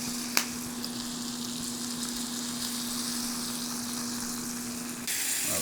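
Beef sears in a hot pan with a steady, even hiss of sizzling fat that holds close and moderately loud. A sharp knock comes near the start, and the sizzle grows brighter near the end with no voices.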